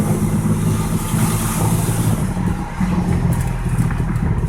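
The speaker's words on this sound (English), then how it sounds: "I'm gonna give it some fuel. This is full throttle." The engine of a Lexus GS300 with undersized fuel injectors roars at full throttle, a loud, sustained drone held close by that sags briefly midway before coming back up.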